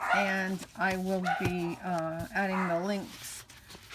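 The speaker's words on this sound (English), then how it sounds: "Again, I apologize for the dogs." Small dogs yip and bark in the background in a steady run of short, repeated calls while someone talks over them at a similar level.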